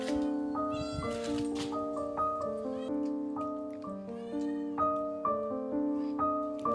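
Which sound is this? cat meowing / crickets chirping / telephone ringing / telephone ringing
cat meowing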